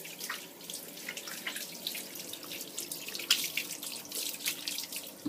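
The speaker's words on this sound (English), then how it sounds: "Okay, so clean hands, bit of a rinse." Hands being rinsed under a running tap before a shave: a steady, fairly quiet rush of water with small splashes throughout.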